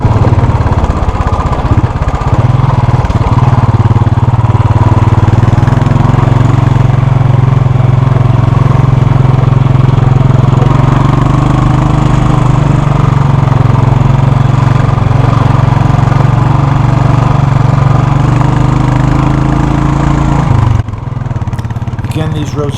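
A Royal Enfield motorcycle climbs a rutted mountain fire road in Spain, its engine droning loud and steady at close range for about twenty seconds before cutting off near the end.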